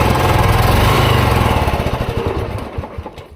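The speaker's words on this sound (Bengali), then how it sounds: "ইঞ্জিনের আওয়াজ আপনারা শুনে নেন।" A 2018 motorcycle engine idles loudly nearby, then sputters and winds down as it is switched off, the pulses slowing toward the end.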